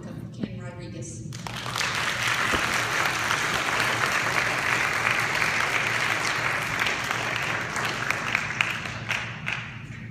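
An audience breaks into loud, sustained applause to welcome a speaker, the clapping swelling quickly after a brief spoken line and holding steady as a dense wash of hands.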